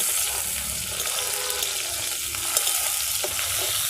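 Prawn curry masala fries in hot oil as chopped tomato is stirred in, giving a steady, close sizzle with scraping stirring noises throughout and no talking.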